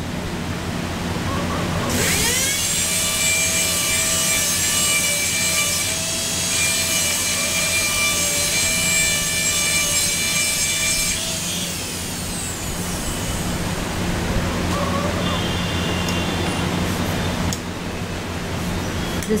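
A dental drill fitted with a tapered fissure bur cuts into a tooth while preparing a Class II amalgam cavity, giving a loud, steady high-pitched whine for several seconds that then stops, with faint background hum throughout.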